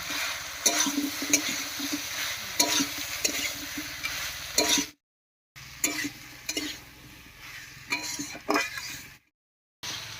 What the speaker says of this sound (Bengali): মশলার সঙ্গে খুব ভালো করে কচুটাও কষিয়ে নেবে